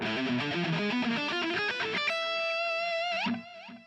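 An electric guitar plays a harmonic minor alternate-picking exercise, a run of quick, evenly picked single notes with effects, ending on a sustained held note that fades out.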